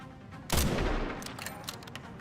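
Gunfire from a weapon in the survival horror game Resident Evil Requiem, with one loud, close burst followed by a fading tail and a few fainter sharp reports.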